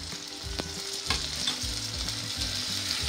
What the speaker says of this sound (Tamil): வதங்கிட்டு நான் இதோட வெட்டி வச்ச தக்காளி பழத்தையும் போடுறேன்